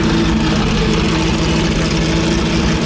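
Loud, continuous engine rumble of a Porsche 917 race car at a steady idle, deep and harsh with a constant droning tone, close by and unbroken throughout.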